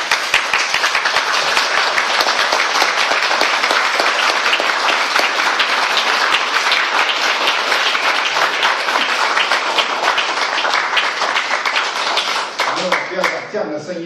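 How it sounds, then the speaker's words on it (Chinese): Loud, dense audience applause welcoming a teacher, steady clapping from many hands close by for about thirteen seconds before it thins out and a voice begins talking at the end. "用最热烈的掌声欢迎王新荣老师"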